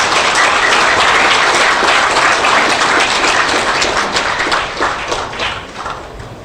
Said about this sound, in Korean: 우리 박수를 한번 칩시다